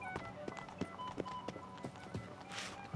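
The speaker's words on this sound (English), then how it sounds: "Give me a horse." Horse hooves from The Witcher 3 beat in a quick, regular rhythm throughout, with a brief soft whinny-like burst near the end; the galloping sits close and steady, and no one speaks.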